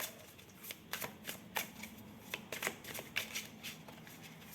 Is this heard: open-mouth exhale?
no